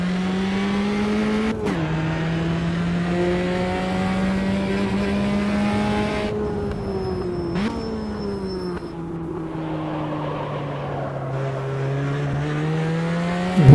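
A race car brakes hard and turns through a tight hairpin, its loud engine note sweeping down and back up in long pitched drones, with a brief whine of tires near the end.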